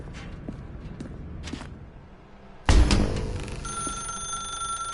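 In The Stanley Parable, a telephone suddenly starts ringing: a loud bright bell bursts in after soft footsteps and thuds, then settles into a sustained electronic ring.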